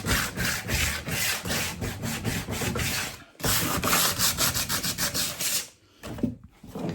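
Sandpaper is rubbed by hand across an old wooden top being stripped for upcycling. Close, rhythmic back-and-forth scraping strokes come in two long runs with a short pause between them and a brief gap near the end.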